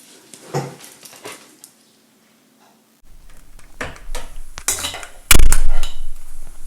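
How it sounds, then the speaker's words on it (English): An iron pan is set down and handled on a kitchen stove before Indian pickle cooking, with scattered clinks and scrapes, then a loud metallic clank followed by busy rattling. "choose a pan, preferably an iron one"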